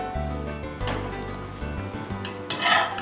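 A banana pancake sizzles steadily in a pan right after being flipped, a close, continuous frying crackle with faint scraping and clinks, no voices.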